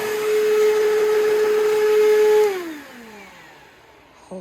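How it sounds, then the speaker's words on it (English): A Bissell CleanView bagless vacuum cleaner roars with a high whine, then powers down, its pitch sliding lower as the motor winds to a stop. "you probably couldn't even hear me over the vacuum"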